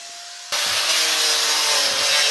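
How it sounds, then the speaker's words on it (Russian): After a brief quiet hum, an angle grinder kicks in abruptly and cuts concrete with a loud, steady, harsh grinding whine until the end. "Так, пошла болгарка."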